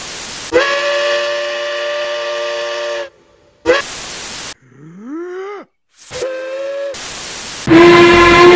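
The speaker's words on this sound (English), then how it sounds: "Steam engines have whistles that sound like this." Several loud, sustained steam locomotive whistle blasts with harmonic tones, separated by short gaps, one with a rising and falling pitch sweep.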